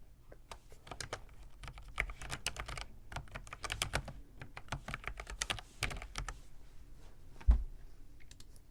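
Close, quiet computer keyboard typing as a project name is entered, with rapid irregular key clicks in short runs and a brief pause toward the end, with no talk.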